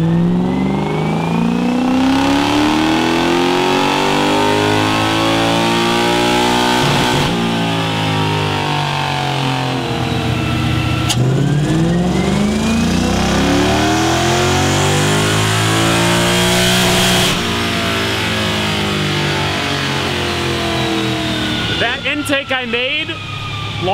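A V8 drift truck engine roars loud and continuous on a dyno, its pitch sweeping up and down through repeated revs before a sharp burst near the end.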